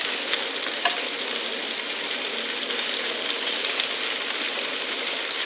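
Chicken pieces sizzle and crackle steadily in a hot pan as they are turned over, with a few brief clicks of a utensil against the pan and no talking.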